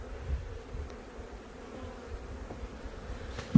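Honeybees hum in a low, continuous drone as a nuc is moved into a hive, steady and fairly close, with a brief louder knock near the end.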